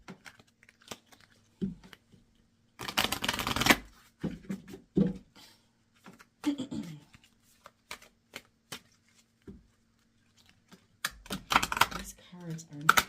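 Stiff, slippery tarot cards shuffled in several short crisp riffling bursts, close up, with quieter card taps and handling between them and brief bits of talk.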